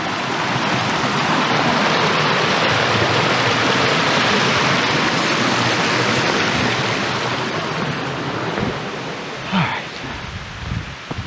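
A mountain river on the Carter-Moriah Range rushes in a loud, steady, close wash of water that holds constant throughout, easing slightly near the end.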